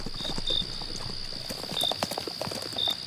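Horse hooves clip-clop in an uneven series over steady background hiss, near and moderately loud, with a few brief high tonal chirps on top and no speech.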